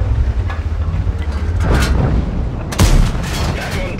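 A Conqueror tank's cannon fires in World of Tanks with loud booms, one around the middle and a sharper blast later, over a rumbling engine drone.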